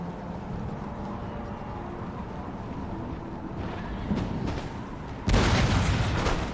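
A warship fires a cannon broadside salvo during a naval battle in Empire: Total War. Steady sea and battle ambience gives way to scattered crackling shots, then a loud, dense burst of gunfire erupts near the end and keeps rumbling.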